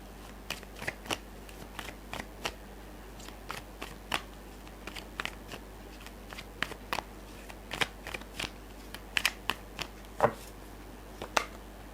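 Tarot cards being shuffled and drawn by hand, heard as a long run of sharp, close flicks and snaps at an uneven pace over a low steady hum, with no talking.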